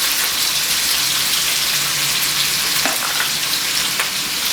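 Carrots, green beans and green pepper frying in a pan for Nigerian fried rice, a continuous bright sizzle like steady rain, close and even, with a few faint stirring knocks.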